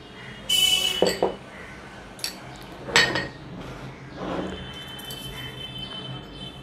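A metal spoon clinks and scrapes against a small dish as black cumin is measured out for a pomfret fish paste, a few sharp, separate chinks over quiet kitchen background, with a voice speaking.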